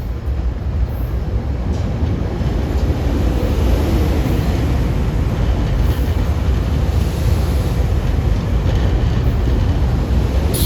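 A GE locomotive-hauled train bound for Newark, Delaware passes close by at Wilmington, with a loud, continuous rumble and rhythmic clatter of wheels on rails that holds steady throughout, no voices over it.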